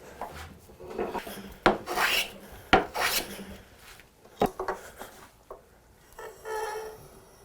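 Hand plane shaving wood on a kumiko jig, a series of rough rasping strokes with sharp clicks and knocks between them, close and fairly loud with no talking.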